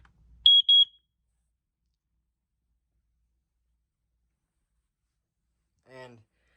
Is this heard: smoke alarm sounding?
yes